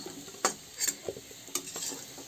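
Chunks of potato and taro fry in hot oil while a utensil stirs and scrapes the pan. Sharp clinks and scrapes come every half second or so over a soft, close sizzle.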